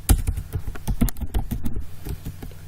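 Quick, irregular clacking keystrokes on a computer keyboard, close and crisp, as a database query is typed, with no voices.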